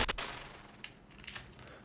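Glitchy electric sound effect from a sound design showcase: a sharp crackling burst at the start, then a hissing, sputtering noise wash with faint stuttering flickers, fairly quiet, no voices.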